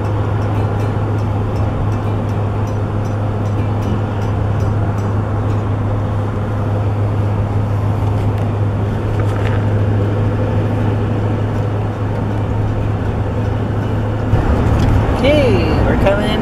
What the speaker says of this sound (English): A lot of trucks on this road.